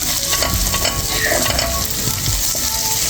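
Keema fries in a pan with a loud, continuous sizzle, and a spoon scrapes and stirs through the minced meat close up.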